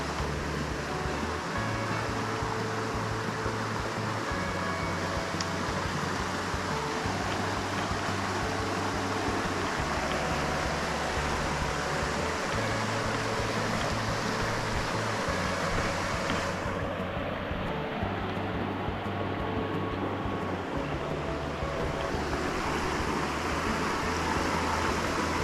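River flowing close by on a summer hike near Rusești and Dalboaca in Cluj county, Romania, a constant, fairly loud rush of water mixed with wind buffeting the microphone, with no talk.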